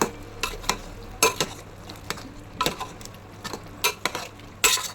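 Ginger garlic paste being stirred into a chicken curry in a pot, with a steady low sizzle beneath repeated scraping and clinking strokes of a spoon against the pan, spaced irregularly over several seconds.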